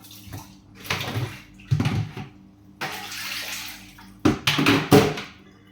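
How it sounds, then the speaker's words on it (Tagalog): Dishes are washed under running water in a kitchen sink, with bursts of splashing tap flow and clinking plates coming in irregular surges, close and fairly loud, without talk. "Magugas ako ng mga plato."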